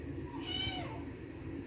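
A house cat gives a single clear, rising-then-falling meow, fairly close and alone over quiet room background.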